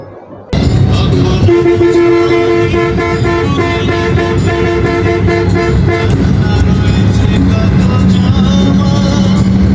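Horns toot repeatedly over the steady rumble of a bus pulling away on a road for the Eid trip home, loud and close, with traffic honking throughout and some voices faintly underneath.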